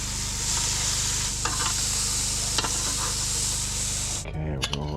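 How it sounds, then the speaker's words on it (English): Rice stir fry sizzles hard in a pan at a mountain campsite, with a steady frying hiss and scrape-like stirring, then the sizzle drops away to a few clinks near the end. "Okay, we're going rice and then a stir fry."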